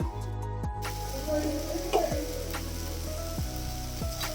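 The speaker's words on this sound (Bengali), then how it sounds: "আলু আর গাজর সেদ্ধ হয়ে যাচ্ছে" Potatoes and carrots boil in salted water in a pot, a steady soft bubbling and hiss with faint intermittent clinks and a low hum beneath.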